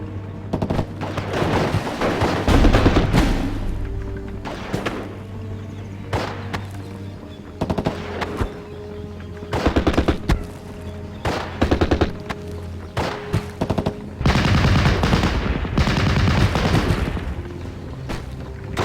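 Machine gun fire in the WWII strategy game Steel Division: Normandy 44, with loud repeated bursts and rattling volleys mixed with booming explosions and low rumbles throughout, close and dense with short pauses between bursts.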